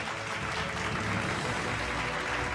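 Dense, steady clapping from a crowd at a live event with Bihar's education minister fills the whole moment, loud and continuous with no voices over it.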